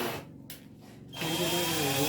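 A power drill fitted with a titanium bit bores into a piece of wood. The motor buzzes at the start, dips briefly, then rises to a steady, close, high-pitched whine.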